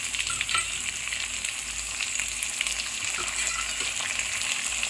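Fried potato pieces, vegetable stems and jackfruit seeds crackle in hot oil in a pan with cumin-ginger spice paste, a dense continuous close sizzle with faint stirring underneath and no voices.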